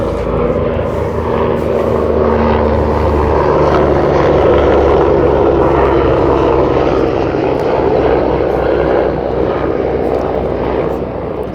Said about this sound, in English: Let me let this helicopter go by